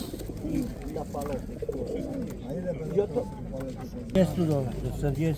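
Pigeons coo at an open-air pigeon market in Radom, low murmuring calls mixed into a crowd of close, steady conversation that continues throughout.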